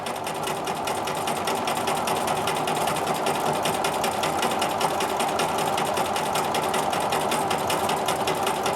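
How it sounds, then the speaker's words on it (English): A sewing machine fitted with a ruler foot stitches straight horizontal quilting lines, producing a fast, even, continuous mechanical whir and rapid needle chatter, close and steady throughout with no voices. "But for this design, we're just quilting horizontal lines."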